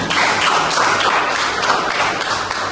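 A school class claps hands for a student's answer, a dense, steady wash of clapping close by for a few seconds, with no talk over it.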